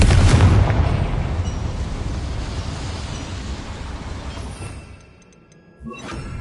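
A Confringo fire spell in the video game Hogwarts Legacy erupts into a loud, rumbling blast that fills the first seconds and slowly fades, with a second smaller burst near the end.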